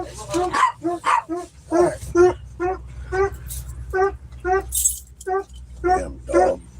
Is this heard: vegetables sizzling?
no